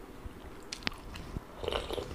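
Crunchy kerupuk crackers bitten and chewed close up, with a few sharp crisp crunches followed by softer chewing noises, no talking, eaten alongside stir-fried chicken intestines.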